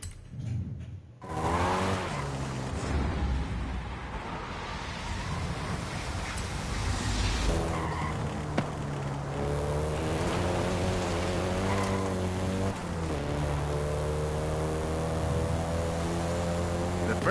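A Volkswagen Golf GTI driven in Forza Horizon 5 gives a steady, loud engine drone with shifting tonal revs that runs unbroken through the whole stretch, with wind-like rushing noise behind it.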